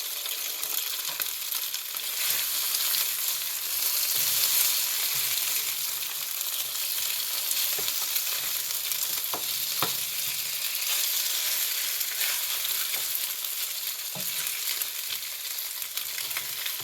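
Mongolian pork sizzles steadily in a hot pan over lowered heat, a dense, even frying hiss with a few faint clicks and no voices.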